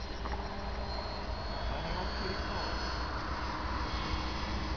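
Engine of a model RAF S.E.5a airplane at a model airfield, a continuous buzzing drone heard from a distance under heavy wind-like noise, steady in level throughout with no clear speech.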